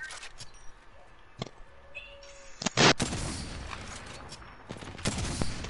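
Gunfire in the video game Apex Legends: scattered shots and a sharp burst crack at moderate loudness over a quiet, busy game backdrop, with louder clustered shots near the end.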